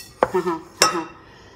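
Cake batter for an apricot cake being roughly mixed in a bowl: two distinct close clinks of a utensil against the bowl, each followed by a brief ringing tail, with no talking.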